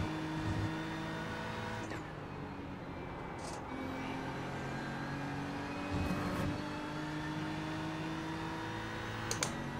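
A GT3 race car accelerating hard on Watkins Glen International in the iRacing sim, a steady rising engine drone with whining harmonics and a couple of brief gear-shift blips, continuous and close from the cockpit.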